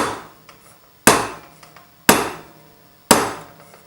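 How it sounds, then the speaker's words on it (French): A plastic hammer taps a metal ring down a sizing mandrel to enlarge it, four sharp, evenly spaced knocks about a second apart, each ringing briefly, with faint small clicks between. "je vais taper en allant vers le bas pour donner assez de pression pour que ça descende facilement"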